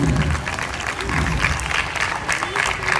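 A crowd claps loudly and steadily for about three seconds at a pastors' association Christmas gathering in Nacharam, a dense, continuous patter of many hands.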